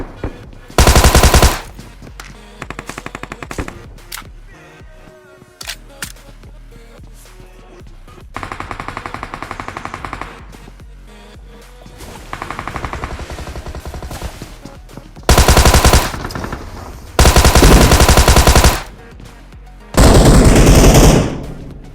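Bursts of automatic gunfire from the battle royale video game BGMI, several loud rapid-fire volleys separated by quieter stretches of game sound and music, with no speech over them.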